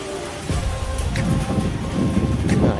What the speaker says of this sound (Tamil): இடியுடன் கூடிய கனமழை